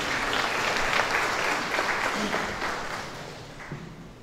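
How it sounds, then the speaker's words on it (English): Sustained applause from mourners at a funeral church service, many hands clapping steadily at moderate distance, then thinning and fading toward the end. "Let's clap for the siblings."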